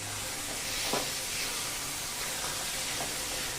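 Roasted eggplant bharit sizzling in a hot pan as it is stirred, a steady close frying hiss with a few soft scraping strokes.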